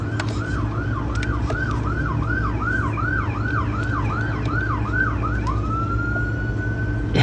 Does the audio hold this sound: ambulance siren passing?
yes